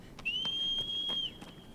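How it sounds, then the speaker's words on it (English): A single sustained whistle in the game Shadow of the Colossus, a steady clear tone held for about a second over soft background ambience. "no aggro this time, just a whistle"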